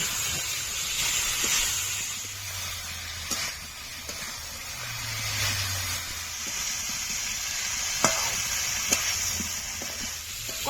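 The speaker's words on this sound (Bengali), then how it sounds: "এবার ফুলকপি দিয়ে দেব ফুলকপি কিছুক্ষণ কষে নেব" Cauliflower stir-fries in a pan, a continuous close hiss of sizzling with faint scrapes and occasional light knocks, steady for the whole stretch.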